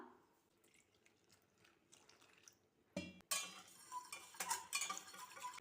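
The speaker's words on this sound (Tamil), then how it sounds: "ஃபஸ்ட்டு 1 டம்ளர் போல் தண்ணி சேர்த்துட்டு கட்டி இல்லாமல் கரைச்சிக்கலாம்" Water poured and stirred into roasted wheat flour in a kitchen: faint quiet drips and light clinks at first, then a sudden splash followed by stirring and utensil scraping against a vessel, close and moderately loud.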